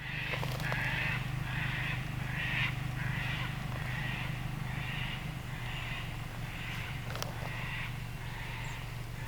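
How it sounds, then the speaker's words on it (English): A cockatoo screeches repeatedly at a campsite, its harsh calls coming in a regular series about every half second, moderately distant over a steady low rumble and wind-like background noise. "I was letting the cockatoo have a good old screech in the background"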